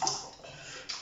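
Diced potatoes splash into a pot of salted water, a brief wet plop and slosh with a small clink at the start and another soft splash near the end.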